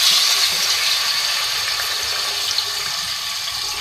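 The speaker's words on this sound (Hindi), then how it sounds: "अब इसी ऑयल में मैं ऐड करूँगी कलेजी।" Chicken liver sizzles steadily in hot oil in a home kitchen, a dense, even crackling hiss that holds at close range throughout with no talk.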